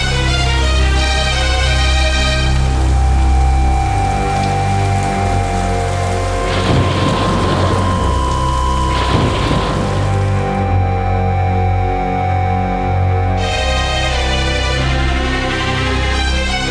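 Heavy rain pouring steadily with rumbling thunder rolling through a storm, loud and constant, with a couple of sharper crackling bursts in the middle.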